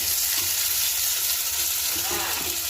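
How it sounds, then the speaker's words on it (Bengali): Eggs frying in a pan with chopped tomato, a continuous close sizzle with occasional stirring sounds. "এই তো টমেটো কুচি দিয়ে দিতেছি ডিম বোনার জন্য"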